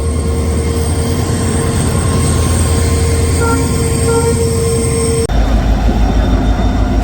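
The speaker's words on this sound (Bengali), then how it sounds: "এই যে আমাদের ট্রেন কিন্তু ঢুকলো।" A passenger train pulling into a station rumbles loudly and continuously with a steady mechanical drone and faint high tones, then the noise shifts abruptly near the end.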